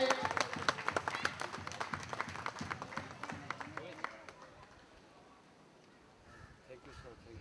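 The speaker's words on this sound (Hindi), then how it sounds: "स्वागत करेंगे तालियों से" Audience applause welcoming the chief guest at an Independence Day celebration, brisk crowd clapping for about four seconds that then fades out into a quiet room.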